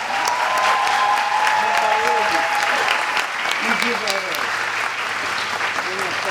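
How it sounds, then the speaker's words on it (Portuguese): An audience claps at a literary awards ceremony at a book fair, steady dense applause filling the hall throughout, with some voices and cheers mixed in beneath it. "Palmas para eles."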